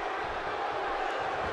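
Arena crowd in the wrestling game WWE 2K17 at a Dallas event, a steady, moderately faint wash of cheering and murmur with no clear peaks over a brief stretch.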